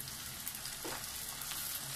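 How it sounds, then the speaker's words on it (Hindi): Tomatoes and green chillies hitting hot oil with softened onions in a pan while making baingan bharta give a steady dense sizzle throughout, with a brief stir sound near the middle. "अभी मैं इसमें टमाटर और हरी मिर्च डाल रही हूँ।"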